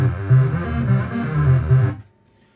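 Amiga tracker music routed through an effects input, a dense rhythmic tune with steady bass notes and layered tones, playing loud and close before cutting off abruptly near the end.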